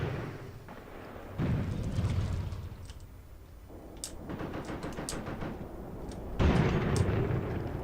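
Artillery fire in the Tank Warfare Tunisia 1943 game at Faid Pass: several distant booms with rumbling tails, spaced a few seconds apart, moderately loud with no talk.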